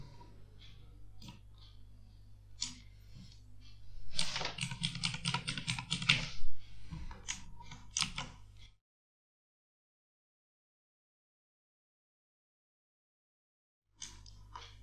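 Typing on a computer keyboard while working in Adobe Illustrator, with quick clicking keystrokes that swell into a dense flurry in the middle, then stop for several seconds before a few more keys are pressed.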